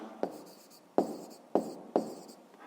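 Pen strokes on paper while a fifth-grade math exercise is written out by hand: four distinct scratchy strokes at a steady, unhurried pace, close and clear with no talking.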